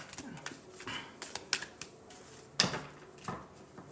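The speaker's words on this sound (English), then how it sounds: "I always like to give it a good shuffle." Tarot cards are shuffled in a quiet room, giving a run of soft, irregular papery riffles and sharp flicks, close and fairly faint, with no talk.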